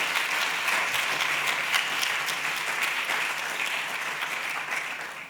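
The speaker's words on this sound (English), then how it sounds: "a round of applause for Matthew and his folks." A conference audience applauds a public health talk, a steady wash of many hands clapping that holds throughout and slowly fades toward the end, with no voices over it.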